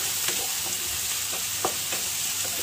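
Onion and crushed garlic fry steadily in a pan for broccoli sabzi, a continuous soft sizzle broken by a few brief scraping stirs, close and alone without talk.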